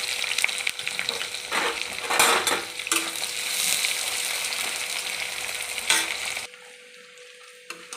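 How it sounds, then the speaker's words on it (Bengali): Chopped onion with dried red chillies frying in a pan for a yogurt chicken dish, loud close sizzling with repeated scraping stirs and clinks of a utensil against the pan, then dropping to near quiet at the end. "পেঁয়াজটি আমার বাদামি কালার হয়ে গেছে ভাজা।"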